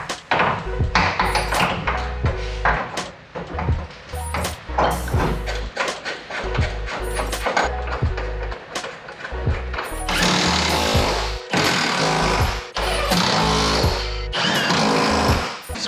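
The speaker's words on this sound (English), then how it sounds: "it's going to just take a minute to whack this subframe in" Car subframe being whacked into place on a drift car build: a dense run of loud, rapid metallic hammering and pinging, close by, with tool rattle continuing throughout.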